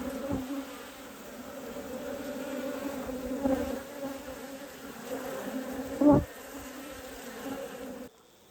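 Honey bees buzz over an open red hive during a frame inspection, a steady, fairly quiet drone. Now and then a single bee passes close and the buzz swells for a moment.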